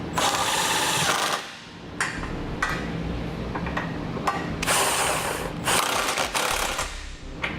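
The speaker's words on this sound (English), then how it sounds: "I'm going to come back with that same 18mm socket, and I'm going to snug up all the nuts" An 18mm socket on a ratchet tightens the nuts holding the bumper beam and Curt trailer hitch receiver on a 2013 BMW 3 Series, close bursts of rapid mechanical clicking and whirring separated by brief pauses.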